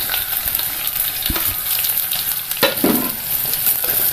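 Curry leaves and green chillies fry in hot oil in a pan for a mackerel curry, giving a loud, steady sizzle broken by a couple of brief clinks from stirring.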